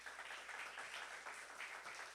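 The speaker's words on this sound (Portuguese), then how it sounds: "Vamos aplaudir Jesus." A congregation applauding at a church service, faint and distant, steady rippling claps with no speech over them.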